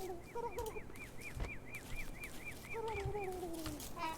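Turkey gobblers in the Don't Starve video game give a quick run of repeated warbling calls, then a longer gliding call, fairly faint with a few soft thumps.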